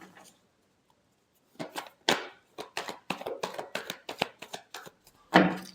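Tarot cards are shuffled by hand in a quiet room, a run of sharp, crisp riffling flicks and taps in an irregular rhythm, close and clear, ending with a louder final burst.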